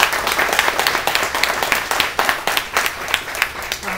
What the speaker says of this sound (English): I think we ought to give them a hand.